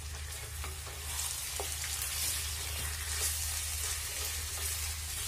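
Chicken pieces frying with onions in a pan over high heat for a stew, a steady soft sizzle with faint scattered crackles and occasional stirring clicks, fairly quiet and continuous.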